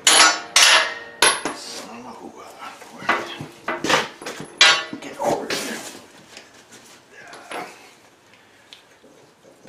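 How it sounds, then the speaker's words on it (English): Hammer blows knocking a U-joint out of a Dodge Ram 2500/3500 front axle: a burst of sharp, close metallic strikes in an irregular rhythm, loudest at first and tapering off into quieter taps. "a lot of times I just beat them out with a hammer."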